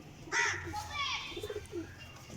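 High flyer pigeons coo in short, throaty bursts close by, a few repeated calls over roughly two seconds. A person talks in the background.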